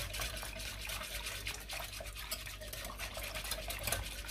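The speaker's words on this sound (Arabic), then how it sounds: "دابا غادي نحرك هذا الشيء مزيان حتى نخلط هذا الخليط" A spoon scrapes and swirls steadily through a dry mixture of flour and fine semolina in a bowl, making a continuous, close, gritty rubbing sound.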